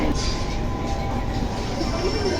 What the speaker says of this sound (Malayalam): ഞങ്ങളെല്ലാവരും ട്രെയിനിൽ കയറി.